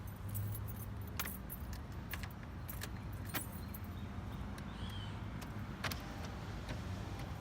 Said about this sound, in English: you'll take your key. You'll place it in the ignition so that way you're able to lower your window